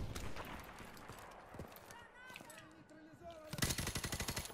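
Rapid automatic gunfire from Call of Duty: Modern Warfare Remastered multiplayer, a loud burst of evenly spaced shots near the end following scattered shots and game noise, with voices talking through the scene.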